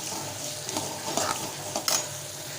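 Coconut pieces sautéed in a pan for uppu urundai, a soft steady sizzle with occasional scrapes and stirring strokes of a spoon against the pan, close and moderately quiet.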